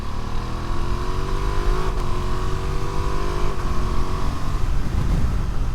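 A Ducati Multistrada V2S 2025 motorcycle engine revs with a loud, steady exhaust drone, pitch sweeping up and shifting as it climbs through the revs.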